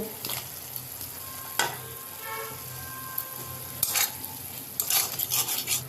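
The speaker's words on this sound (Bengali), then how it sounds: "আলুর সাথে মশলাটাকে ভালো করে কষিয়ে নিব" Fried potatoes are stirred with spice masala in a pan, a soft sizzle under spatula scrapes and metallic clinks, with bursts of stirring near the start, middle and end.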